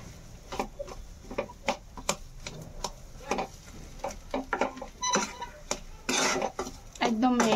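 Boiled potatoes fry in a pan over a gas flame while a utensil stirs them, giving repeated sharp scraping clicks against the metal, irregular and close, with a brief sizzling burst near the end.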